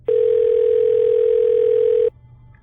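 A steady telephone dial tone sounds loud and close, holding one unbroken pitch for about two seconds and then stopping abruptly, with nothing else heard.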